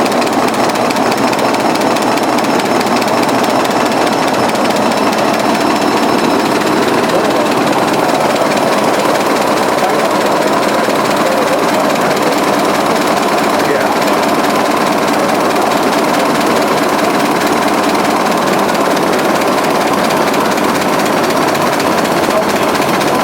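A 1920s generator set engine runs steadily for the whole stretch, a dense mechanical clatter with a broad noisy drone while the throttle is adjusted, loud and close throughout.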